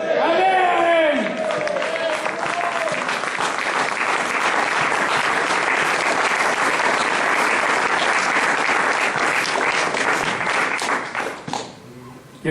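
Church congregation applauding a preacher's sermon, a loud sustained roar of many hands that follows a brief voice at the start, holds steady for about ten seconds, then fades quickly.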